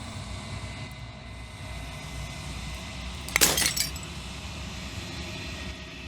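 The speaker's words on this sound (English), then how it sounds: "As the final fragment of glass shatters" Glass shattering in the video game Slay The Princess: one sharp, bright burst of breaking and tinkling fragments in the middle, set against a low, steady ambient drone.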